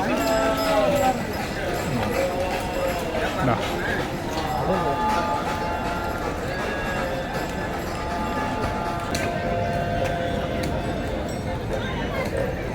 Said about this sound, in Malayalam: നിങ്ങൾക്ക് കാളവണ്ടി സർവീസ് എടുക്കാം